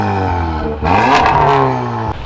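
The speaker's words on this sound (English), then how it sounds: "So what kind of exhaust is this? Because that thing sounded crazy." A 400-horsepower Volkswagen Golf R engine revs up sharply through a loud, throaty sports exhaust, climbing in pitch, then dropping back toward a rumbling idle.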